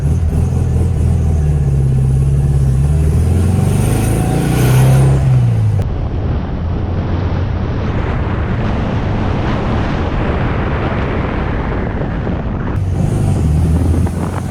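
A Volkswagen Beetle engine drones steadily while driving, heard from inside the car with heavy wind buffeting through the middle, the engine note rising and falling under the rush of air.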